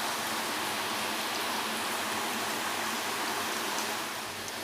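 Fresh chhana, curdled with vinegar, rinsed under running tap water; a steady, even splashing hiss continues throughout with no voices.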